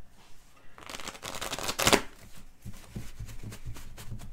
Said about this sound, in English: Let's put some cards down.